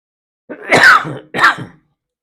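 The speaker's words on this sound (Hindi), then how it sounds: "खांसी हो रही है?" A person clears their throat harshly, then gives a second shorter cough-like clearing a moment later, close and loud against silence.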